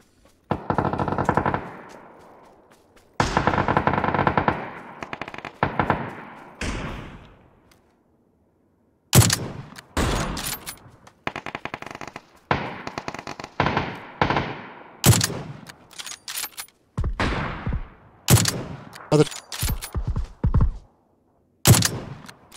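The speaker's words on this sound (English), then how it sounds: "Getting shot." Gunfire in the PUBG video game on PC, loud bursts of automatic fire and single shots in close, repeated volleys with brief gaps, continuing throughout.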